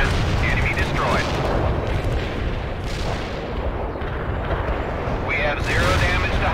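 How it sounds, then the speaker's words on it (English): Artillery barrage in the World in Conflict strategy game: heavy rumbling booms and blasts roll on continuously, loud and dense, with radio-style voice chatter partly over the bombardment. "Artillery firing."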